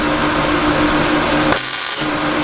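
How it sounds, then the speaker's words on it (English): MIG welder tack-welding a metal frame inside a 4x4 7.3 Econoline van, a loud steady crackling buzz that cuts off briefly before resuming, no talking. "When I'm tacking stuff, I like to turn my welder settings up pretty, like decently higher."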